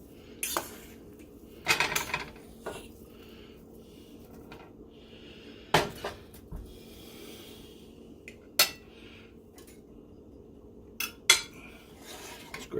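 Serving spoon scraping and clinking against a dish while scooping stuffing for a crock pot roast turkey breast meal, a handful of sharp metallic knocks spread apart over quiet room tone.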